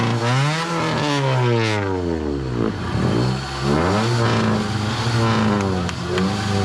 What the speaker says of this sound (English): Got a cherry pop exhaust.